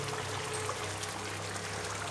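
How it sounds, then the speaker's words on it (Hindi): Boiled lentils pour steadily into a pan of cooked radish masala, a continuous wet stream heard close up for about two seconds with no talking. "अब इसके अंदर हम डाल देंगे जो हमने दाल को बॉयल करके रखा था ना, वो डाल देंगे इसके अंदर।"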